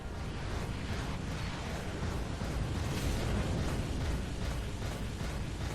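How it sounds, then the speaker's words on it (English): Torpedoes are fired at an enemy ship in the naval battle game Dreadnought, a dense continuous roar of rumbling booms and rushing noise, loud and with no voices. "Gonna fire those torpedoes out at them."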